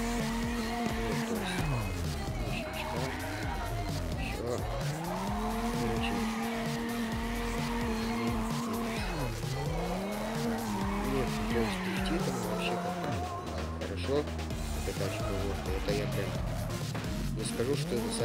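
Engine roar and sliding tire squeal from a car drifting in the racing game CarX Drift Racing 2, sustained and loud throughout with rising and falling revs as it swings sideways, with voice faint underneath.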